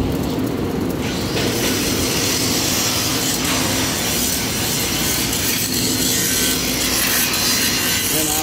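A Fimer TM500 machine runs with a loud, continuous rough grinding and rubbing roar, dense and unbroken at close range, with no talk over it.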